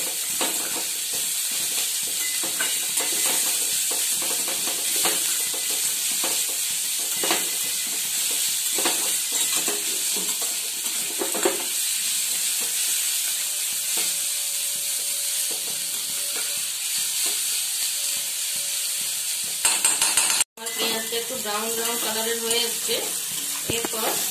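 Onions sizzle and fry steadily in a pan while being stirred, a continuous close hiss with scraping movements and a brief louder clatter near the end.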